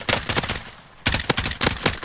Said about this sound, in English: I hear lots of gunfire.